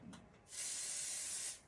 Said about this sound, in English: my Pixie spray. It's like an adhesive for stencils. I'm going to spray this.